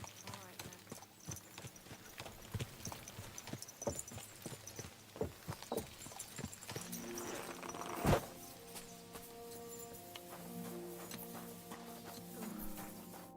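Hooves of a horse clip-clop in the medieval game Kingdom Come Deliverance II, a close, fairly quiet walking rhythm of steady hoofbeats through the whole stretch, with a brief louder thump midway.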